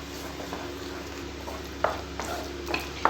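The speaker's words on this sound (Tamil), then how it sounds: "சேர்த்துட்டு நல்லா கை விடாமல் நம்ம அப்படியே கிண்டிக்கிட்டே இருக்கணும்" Biscuit halwa made from Milk Bikis biscuits is stirred in ghee in a kadai over a low flame: a soft, steady frying hiss with a few scraping strokes of a spoon against the pan.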